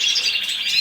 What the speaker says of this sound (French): Je vais refaire un peu le tour à l'écoute de mes oiseaux